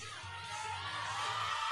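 A crowd cheers at a powerlifting championship, a brief swell of whoops and shouts rising toward the end, moderately distant and fairly faint.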